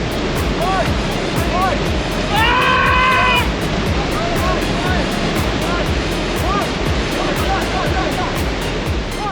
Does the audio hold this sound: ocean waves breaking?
yes